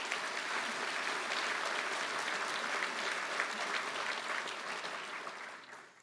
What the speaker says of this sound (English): So perhaps we could give them a round of applause.